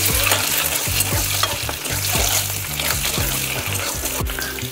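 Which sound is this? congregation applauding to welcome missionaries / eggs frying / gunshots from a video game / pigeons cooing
eggs frying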